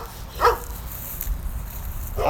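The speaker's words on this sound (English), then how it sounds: "The dog agrees." A single short dog bark sounds early on, moderately close, followed by low background rumble and murmuring.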